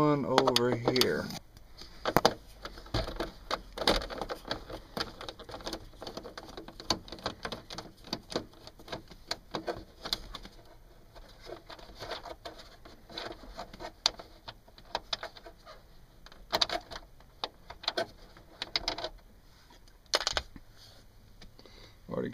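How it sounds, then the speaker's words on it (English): Screws being backed out of the gauge cluster module in a 1991 GMC pickup, heard as small scattered metallic clicks, scrapes and rattles of driver and parts, close by, with no talking. "So next we've got to take out these 3 screws."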